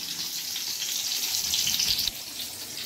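Meat sautéing in a pan in a home kitchen gives a steady, close sizzle and hiss that runs unbroken throughout, with no voices.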